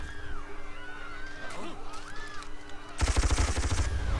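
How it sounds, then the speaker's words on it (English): Machine gun fire erupts in the turn-based strategy game Civilization V: Brave New World during a world-war stage, a dense rapid burst of shots arriving loud and close after a few seconds of quieter game sounds. "They're shooting civilians with machine guns."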